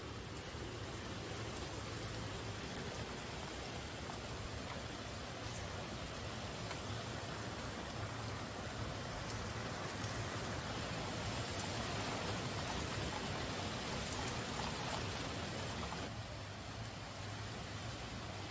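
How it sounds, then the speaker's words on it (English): Steady, heavy rain falls outdoors and forms an even, dense hiss across the whole stretch. It is loud and constant, with no talking. "Rain."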